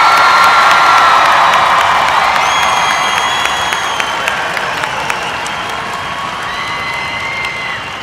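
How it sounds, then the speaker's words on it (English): A high school commencement crowd applauds the graduates with loud sustained clapping, mixed with cheers and whoops, filling a large space and slowly fading over several seconds. "Can we get a round of applause for all the graduates today?"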